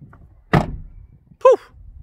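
A car door shuts with one solid, close thud, followed a second later by a short electronic chirp.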